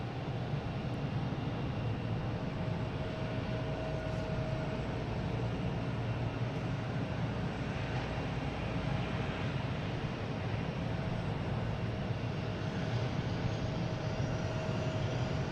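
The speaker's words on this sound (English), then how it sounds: "And the JetBlue immediately landed right there." A JetBlue airliner lands at Boston Logan airport, a steady broad engine roar with a faint whine, unbroken and fairly loud the whole time.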